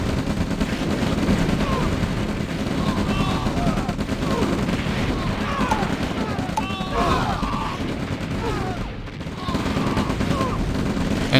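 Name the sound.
artillery fire in OpenRA Red Alert video game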